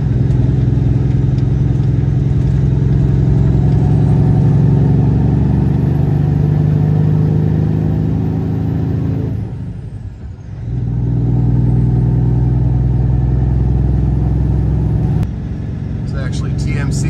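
A semi truck engine drones steadily from inside the cab after a downshift, dipping briefly about midway before settling back to an even, loud hum.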